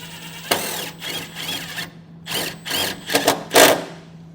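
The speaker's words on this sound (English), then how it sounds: "Just use these self-tapping screws that they give you. And we'll just run this other one in." A power drill drives self-tapping screws into a 2016 Jeep Wrangler, heard as several short bursts of whirring motor close by, some pulses stuttering as the screw seats, with brief pauses between runs.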